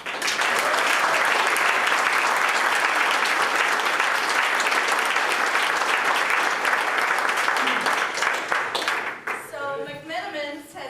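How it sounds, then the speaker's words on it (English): An audience at a community reinvestment meeting gives sustained, full-room applause that stays loud for about nine seconds, then thins out as a voice begins speaking at the end. "I hope you'll give me a clap with me for just a minute to thank them for their efforts"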